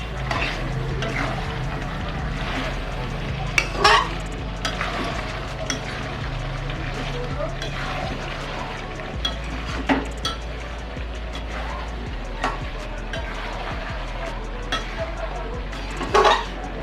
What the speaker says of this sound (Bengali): আলু ছাড়া মাংস কষা।